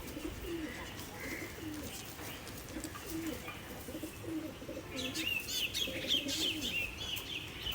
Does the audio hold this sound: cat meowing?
no